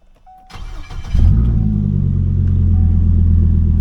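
Chevrolet Colorado truck engine cranking and catching on its first start after a rebuild, running on five-year-old gas, then settling into a loud, steady, deep idle rumble close by.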